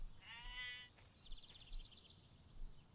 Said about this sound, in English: I have brought your sheep.